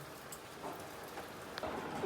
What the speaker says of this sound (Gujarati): જો અત્યારે વરસાદ શરૂ છે બહાર